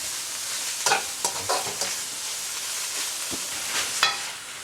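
Eggs stirred into bitter melon frying in a pan: a steady broadband sizzle with scattered scraping clicks from the utensil, loud and close, with no talking.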